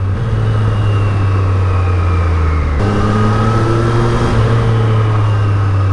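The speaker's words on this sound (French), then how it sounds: "mais alors le son de la bécane" A 2023 Triumph Street Triple 765 RS drones steadily under a rider, with a strong low engine hum that drops briefly partway through as if shifting gear, then carries on with no talk.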